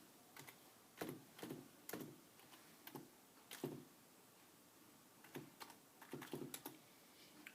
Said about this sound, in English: So I will go ahead and type my password in it.